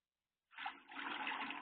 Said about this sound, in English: you can definitely hear the water falling through.